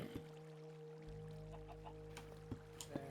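A chicken clucks in the video game Minecraft, a few short, soft clucks scattered over a quiet, steady in-game background hum.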